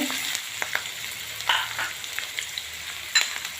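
Curry leaves frying in a pan with chillies, garlic and onion for matar rice, a close crackling sizzle with a few sharper spits and pops standing out over the steady frying.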